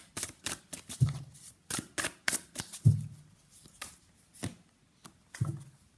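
Tarot cards shuffled and drawn from a deck, a run of quick crisp riffles and flicks with soft thumps as cards land, close and fairly quiet with no talking.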